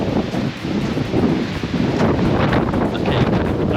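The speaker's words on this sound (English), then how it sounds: "Very windy." Strong wind buffets the microphone outdoors at a building site where a timber-frame roof is going up on a home extension, a steady loud roar and rustle throughout with no talking.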